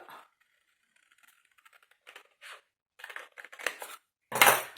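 Scissors cutting paper for a wedding scrapbook album, a series of close, crisp snips and rustles building to a louder final cut, in a quiet room.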